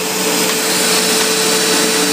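A carpet cleaner machine's motor running with the spray trigger squeezed, a loud steady high-pitched vacuum whine with a constant tonal hum, unbroken throughout and with no talking.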